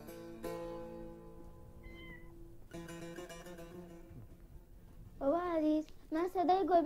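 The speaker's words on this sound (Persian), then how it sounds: "صدای گربه شنیدم" After a stretch of sustained tones, a few loud wavering cat meows arrive close together near the end.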